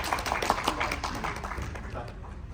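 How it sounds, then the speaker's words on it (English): An audience at a convention panel claps in a short burst of applause that starts lively and fades toward the end, with light voices underneath. "Please give a round of applause."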